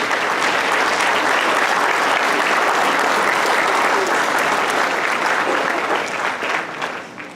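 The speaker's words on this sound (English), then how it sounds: "And they truly deserve a big round of applause." A large audience applauding loudly and continuously at a festival closing ceremony, a dense steady wash of clapping that tapers off slightly at the end.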